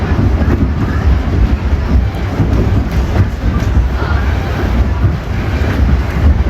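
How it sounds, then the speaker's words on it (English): Interior rumble of a GO commuter train in motion, a steady low roar with faint rail clatter and wind-like hiss running continuously throughout. "Solo GO train mission."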